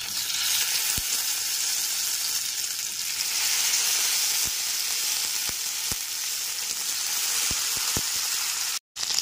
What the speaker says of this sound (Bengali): ওই একই তেলের মধ্যে আরেক টেবিল স্পুন তেল যোগ করে এবার ভেন্ডির টুকরোগুলোকে দিয়ে দিচ্ছি